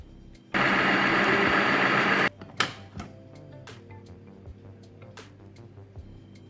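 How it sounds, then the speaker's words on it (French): A food processor blends vegan cheese ingredients in one loud, steady whirring burst of about two seconds, stopping abruptly and followed by faint clicks and handling sounds nearby. "Je vais mixer tout ça."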